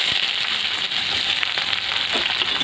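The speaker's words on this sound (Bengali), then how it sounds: "পেঁয়াজটা একটু লাল লাল করে ভেজে নেব।" Steady, bright sizzling of food frying in a hot pan, continuous crackle and hiss with no talking.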